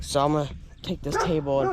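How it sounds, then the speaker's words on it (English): A dog barks and yips in short bursts, mixed in with a person talking close by. "sorry about the barking in the background"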